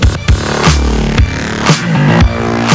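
Gritty, distorted French-house electronic track in the Ed Banger style, built in Ableton, with heavy pumping bass hits recurring about every half second under buzzy, saturated synths; loud and dense, no voices.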